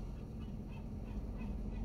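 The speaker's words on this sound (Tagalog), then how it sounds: "May mga ibon." Geese honking at a mall area, faint and distant under steady low outdoor rumble, a few soft calls scattered through the background.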